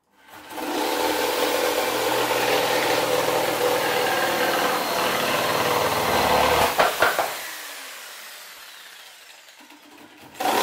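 Wood being cut in a home workshop, a steady loud buzzing cut lasting several seconds, ending in a few sharp clattering knocks, followed by near silence and a faint rising hum.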